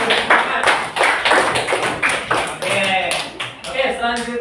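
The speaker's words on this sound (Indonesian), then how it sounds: "Mari kita berikan tepuk tangan untuk kita semua supaya bersemangat" Students in a classroom clap together in a steady, fairly loud burst of hand claps, with a teacher's voice speaking over part of it.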